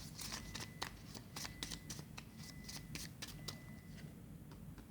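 Tarot cards shuffled by hand in a quick run of soft riffling flicks and slaps, close and fairly quiet, with no talking over them.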